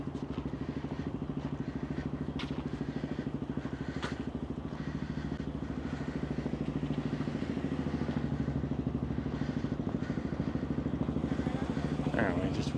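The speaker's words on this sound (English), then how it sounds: "See the dad and the kid riding the ATV here." An ATV engine runs steadily nearby with a dense, low mechanical drone and clatter, holding through the whole stretch with light street noise on top.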